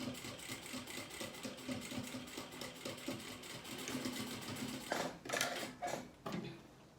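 A sewing machine stitches a seam on a small beginner's pouch with a steady, fast mechanical whirr of needle strokes. Near the end it turns into a few separate short bursts.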